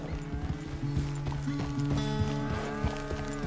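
A horse walks at a steady clip-clop pace in the open-world game Red Dead Redemption 2, hooves thudding evenly and close by, with a soft snort or whinny and light music underneath.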